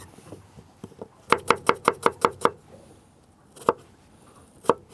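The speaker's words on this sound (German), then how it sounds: "Damit die Grießnocken ein klein bisschen lockerer werden, schneiden wir da jetzt noch ein klein bisschen Zwiebelwürfel rein" Knife chopping onion into small dice for semolina dumplings, cooked outdoors on a boat: a quick run of about eight crisp, evenly spaced taps on a board, followed by two isolated cuts.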